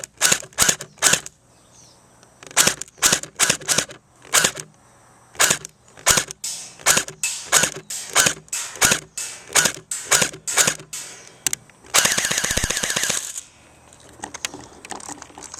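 Cheap H&K MP7 replica gun (non-A1) firing a series of loud, sharp clacking shots in uneven bursts, followed near the end by a rapid buzzing full-auto rattle lasting about a second, with no talking.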